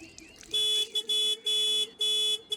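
Car horn blaring outside a house, four loud, insistent honks in quick succession with short gaps between them, with nobody talking over it.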